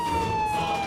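An ambulance siren holds a steady, piercing tone across the full second, loud and continuous with no talk over it.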